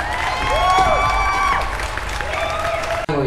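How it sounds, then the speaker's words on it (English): An audience applauds in a steady, dense wash of clapping that fills nearly the whole stretch and cuts off abruptly just before the end, with faint tonal sounds mixed in. "Everyone, hand applause."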